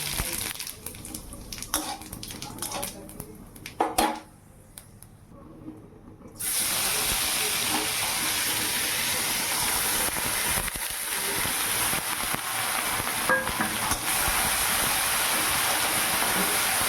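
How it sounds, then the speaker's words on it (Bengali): Dry red chillies and black cumin sizzle and spit in hot oil as a tempering for a drumstick-leaf dal, a loud steady hiss that starts abruptly partway through and holds close and continuous to the end. "ফোড়নে দিচ্ছি শুকনো লঙ্কা আর কালো জিরে আর রাঁধুনি ফোড়ন দেবো"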